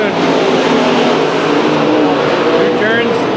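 Race cars in a heat race at Chowchilla Speedway, engines roaring loud and continuous as the pack runs near, with an announcer talking over the noise.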